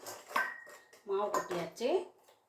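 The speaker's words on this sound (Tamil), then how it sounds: "இப்போ நம்ம மாவை கொட்டி எப்படி கிளறதுன்னு பார்த்துக்கலாம்." Ragi flour being stirred in a metal pot, with a few short scraping and clinking knocks of a spoon against the pan in quick, uneven bursts, close and fairly clear.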